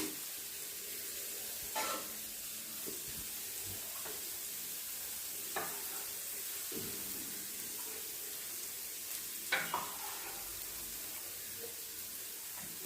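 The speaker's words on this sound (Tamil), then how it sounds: "நம்ம கலந்த மாவை விட்டுக்குவோம்" Onion rava dosa batter poured onto a hot pan and crackling, a soft steady sizzle with scattered faint taps and brief clinks against the pan, fairly quiet throughout.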